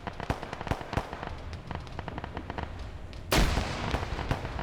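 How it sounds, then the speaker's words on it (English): Grenades going off during a PvP shooter match, a run of sharp cracks and thuds over busy battle noise, ending in a louder close blast and rumble. "Grenades being thrown up by Zicky here to ensure they're dead"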